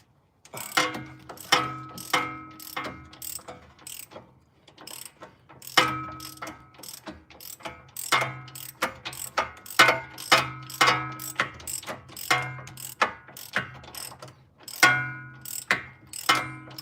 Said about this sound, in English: on the other side I'm using the torque wrench